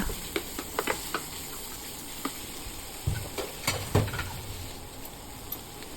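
Minced pork stir-fried for khua kling in a pan, a constant low sizzle with irregular sharp scrapes and clinks of the spatula, close by.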